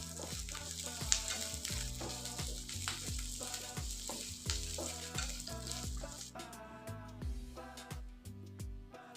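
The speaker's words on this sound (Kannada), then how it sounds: "ಈರುಳ್ಳಿದ ಹಸಿವಾಸನೆ ಹೋಗೋ ತನಕ ನಿಧಾನಕ್ಕೆ ಚೆನ್ನಾಗಿ ಫ್ರೈ ಮಾಡ್ಕೋಬೇಕು." Onion, garlic, green chillies and curry leaves sizzle in a pan for tomato chutney, giving a steady close frying hiss under prominent background music with no speech.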